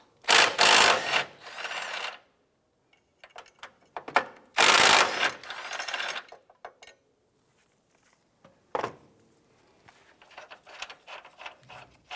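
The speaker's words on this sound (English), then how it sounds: "Using your 18mm socket, I'm going to go ahead and loosen the nuts." Transmission mount nuts on a 2007-2012 Nissan Versa are loosened with an 18mm socket and ratchet, giving loud bursts of rapid ratcheting clicks separated by pauses and scattered metallic taps, close up, with no speech.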